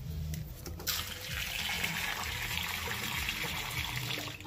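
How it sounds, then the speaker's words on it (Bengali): Tap water gushing steadily from a faucet beside a pond to wash cut potatoes, a continuous close splashing rush that starts after a few faint clicks and holds without pause. "আমার কল এখানেই, তাই এখান থেকে গিয়ে আমি ধুয়ে নিই।"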